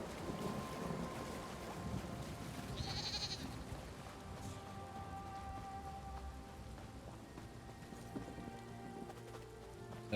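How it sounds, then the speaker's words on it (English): Steady rain and wind ambience in the video game The Elder Scrolls Online, a continuous hiss of falling rain with low rumbling underneath and a brief brighter splash partway through, no voices. "It's raining in the game."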